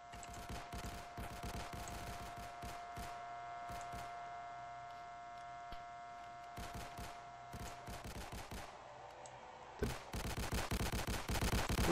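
Video game gunfire during a riot at a sheriff's office rattles in long sharp volleys of rapid shots under a steady electronic tone, easing in the middle before a denser, louder burst breaks out near the end.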